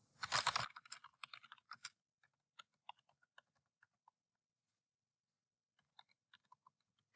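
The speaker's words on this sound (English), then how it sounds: "you're going to type your message" Typing on a computer keyboard while entering a comment in a word-processing document: a dense burst of quick clicks at the start, then sparse, scattered single keystrokes that fade out, quiet and close with no talking.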